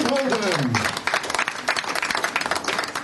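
A crowd applauds a player's walk-on at a poker tournament final table, with dense clapping under a loud announcer's voice.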